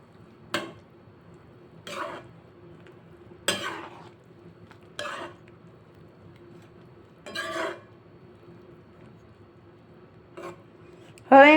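A spoon scrapes through a pot as meat pieces are stirred into thick gravy, with about seven separate rasping strokes spaced by quiet pauses and a louder scrape at the end.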